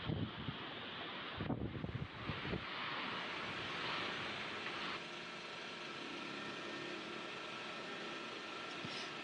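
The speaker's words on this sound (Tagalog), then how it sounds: "Kita rin mula sa pantalan ang malakas na bugso ng hangin at ulan." Strong gusts of wind and rain sweep across the port at Lucena City, a loud broadband roar with buffeting against the microphone, rising and falling without any voices.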